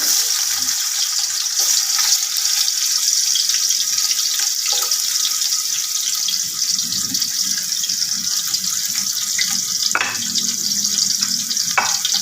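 Chopped onions frying in hot oil for chicken biryani, a steady, bright sizzle that carries on throughout with occasional clinks and stirring noises.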